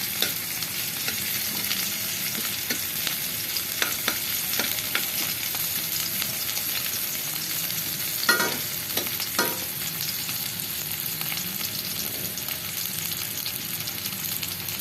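Tomatoes dropped into a pan of sautéed onions for sinigang na bangus, a steady close sizzle and fry running throughout, with a few clinks and scrapes of stirring and no talking.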